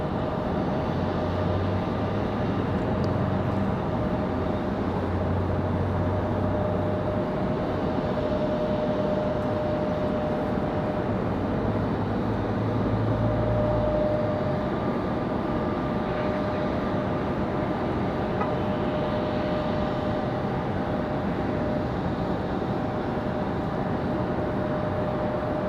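A JetBlue Airbus A220-300 from Boston taxis at Raleigh-Durham airport at night, a steady broad engine roar with a constant whine running throughout, moderately loud and without talk.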